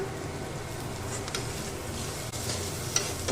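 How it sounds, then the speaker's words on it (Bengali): Sweet corn and chopped chillies sizzle and crackle in a hot pan, with soft scraping strokes of stirring throughout, fairly quiet and close. "এটাকে ভালো করে নেড়ে নেবো"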